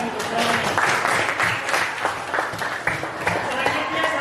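Classroom applause for a student from a group of pupils, dense clapping that runs steadily for several seconds at moderate loudness.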